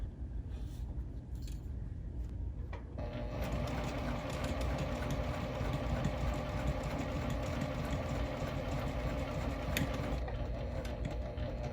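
Home sewing machine stitching quilt seams, starting with quiet handling and then settling into a steady, continuous motor whir and needle chatter close by.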